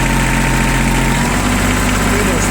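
A small ISEKI Sial TF223 diesel mini tractor, slightly warmed up, idles outdoors with a steady, even low rumble and constant mechanical vibration running throughout.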